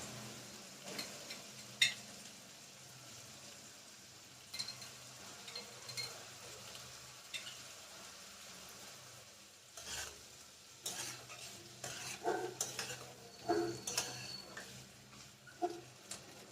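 Egg is stir-fried with Schezwan sauce in a pan for homestyle egg fried rice. Quiet sizzling sits beneath intermittent scrapes and clacks of a spatula stirring at an uneven pace.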